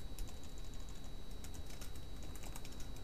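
Fingers tap on a computer keyboard while comments go into a Unity script, a quiet continuous patter of irregular key clicks close to the mic over faint background hiss.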